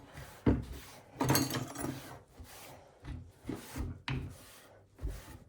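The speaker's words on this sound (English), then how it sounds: "I would like to wipe down this work surface, actually." A cloth wiping down a kitchen work surface: soft, uneven rubbing strokes in bursts, close and fairly quiet, with pauses between passes.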